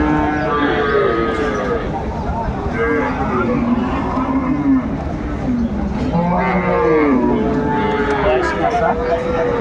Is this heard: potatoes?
no